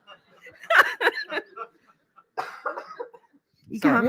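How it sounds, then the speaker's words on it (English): A man coughs a few times in a pub-style setting, short bursts mixed with chuckling and talk from others, close and moderately loud. "I've got a cough."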